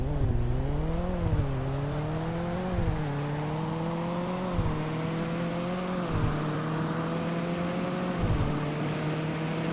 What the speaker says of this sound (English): So I'm going to floor it in 3, 2, 1, go